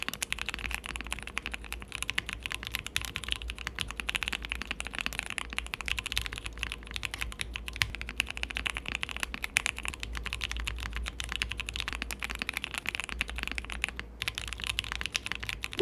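Close, steady typing on a QK65 mechanical keyboard built without plate foam, a continuous clatter of keystrokes with a bright metallic ping running through it for the full length, no voices.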